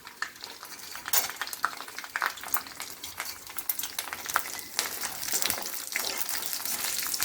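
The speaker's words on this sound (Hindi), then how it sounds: "चना दाल को ज़रा 2 मिनट भूनने के बाद ये मूंगफली हमने रखी हुई है 1 टेबल स्पून," Chana dal and peanuts fry in oil in a pan, a steady crackling sizzle broken by frequent scraping clicks of a spoon stirring, close and continuous with no talking.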